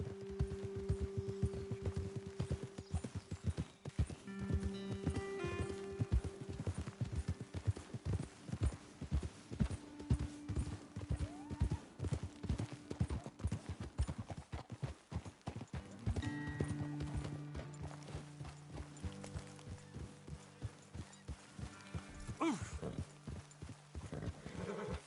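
Horses' hooves clip-clopping in Red Dead Redemption 2, a steady walking rhythm on a trail, fairly quiet with a background music tone and an occasional snort.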